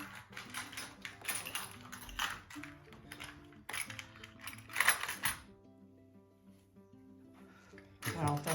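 Small metal hex wrenches clink and rattle as someone rummages through a kit, close, intermittent jangles with brief quiet gaps and a voice talking.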